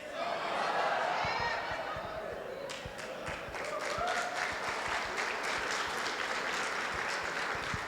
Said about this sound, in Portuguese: Os homens aplaudindo assim, e as irmãs.